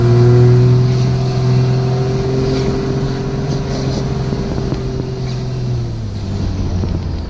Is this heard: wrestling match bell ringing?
no